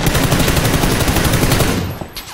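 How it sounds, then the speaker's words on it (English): Rapid automatic gunfire in PUBG, a dense, loud rattle of repeated shots that fills the moment before cutting off abruptly near the end. "We're getting shot in our back."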